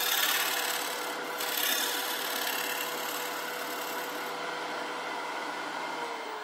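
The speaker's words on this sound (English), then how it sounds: "we are gonna fix it with a skew chisel. All I'm doing is cleaning the corner" Skew chisel scraping and cleaning the corner of a birch bowl tenon on a lathe, a continuous close rasping rub over the steady hum of the spinning wood, with no pauses.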